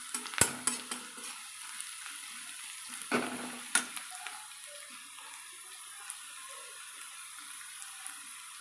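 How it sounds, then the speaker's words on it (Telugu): Onions frying in a pan for perugu charu, a soft steady sizzle with a few sharp clinks and scrapes of a spoon early on, then a quieter bubbling hiss. "బాగా ఫ్రై అయ్యేవి ఆనియన్స్."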